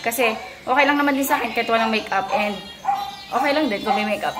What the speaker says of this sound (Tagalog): Ang ingay ng mga aso, sorry.